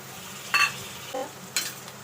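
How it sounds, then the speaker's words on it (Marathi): Chopped onion frying in oil with a pinch of salt, browning for a chicken dish: a low steady sizzle with three brief scraping stirs of a spoon against the pan, close and moderately loud. "भाजून घेऊया अगदी जरा ब्राऊन होईपर्यंत भाजण्यासाठी आपण त्यात थोडं मीठ टाकूया."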